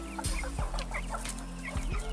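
Hens cluck in a coop while eggs are gathered, giving steady close murmuring calls with a few sharp knocks and rustles from the coop.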